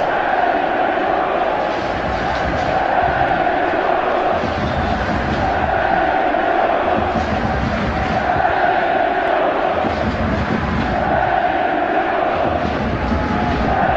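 Bosnia-Herzegovina football supporters chant in a packed stadium at Bilino Polje during a World Cup qualifier against Greece, a dense, sustained roar of massed voices that stays loud and unbroken throughout.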